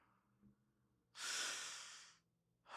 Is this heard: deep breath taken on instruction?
yes